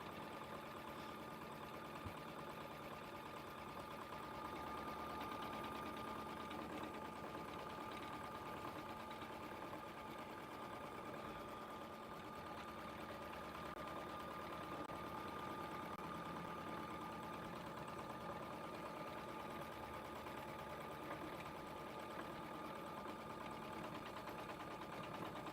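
An embroidery machine runs steadily, stitching an outline that tacks fabric down to a hoop frame; a continuous mechanical whir with a faint rapid stitching patter holds at an even level throughout, with no talk.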